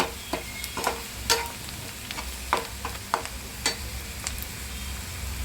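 Onion frying in a pan with cumin, mustard seeds, asafoetida and red chilli powder added for a capsicum dish, a continuous sizzle broken by repeated sharp spatula scrapes and taps, no voices.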